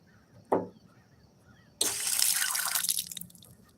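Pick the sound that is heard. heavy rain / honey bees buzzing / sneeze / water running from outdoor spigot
water running from outdoor spigot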